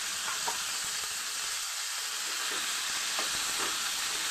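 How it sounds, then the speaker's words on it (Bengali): Gathi kochu taro stolons fry with green chili, ginger and bay leaf in a pan, a continuous loud sizzle broken by occasional stirring clicks and pops, with no talk. "গাটি ছাড়াটা আমার একটু ভাজা হয়ে গেছে, অল্প একটু ভেজে নিলাম"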